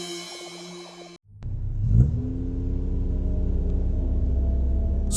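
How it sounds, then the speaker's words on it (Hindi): A car drives along a deserted road at night, its engine rising from a low rumble into a steady mid-pitched drone and whir that holds for several seconds after an eerie tonal sting fades out. "सुनसान सड़क पर राजेश और सुजीत गाड़ी ड्राइव करते हुए जा रहे थे।"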